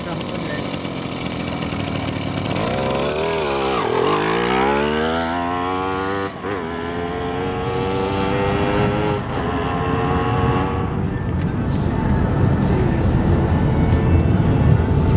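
A motorized bicycle engine revs hard and loud, its pitch sweeping up and down through repeated throttle bursts, with voices mixed in during the fly-bys.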